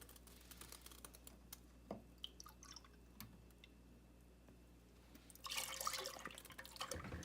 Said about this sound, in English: After each time I pour a cup of milk in, I like to stir to incorporate everything.